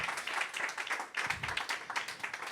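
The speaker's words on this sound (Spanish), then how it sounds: "Vamos a dar un aplauso fuerte al Señor." Congregation in a church service clapping for the Lord after a sermon on breakthrough, a dense, steady patter of many hands at moderate distance with bursts of whooping or voices mixed in.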